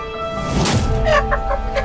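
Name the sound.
chicken clucking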